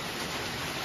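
Rain during a storm, a dense, even hiss of falling water heard faintly and continuously over a brief moment, with no voices.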